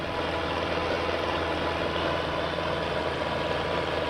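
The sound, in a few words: tractor engine running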